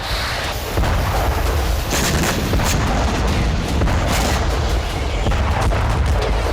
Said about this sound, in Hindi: तो कहीं यूक्रेनी तोपें बारूद बरसा रही हैं।